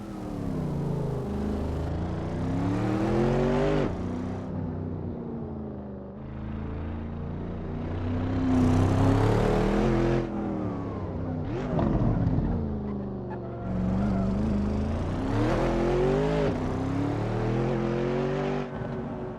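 Ford Mustang engine in the Assetto Corsa driving game on a winding mountain road, throaty and loud, revving up and down through repeated gear changes with rising and falling pitch, continuous with no talk.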